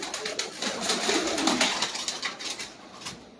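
Teddy breed pigeons coo close by, soft repeated throaty notes mixed with rustling and fluttering movement, steady and moderately quiet, no one speaking.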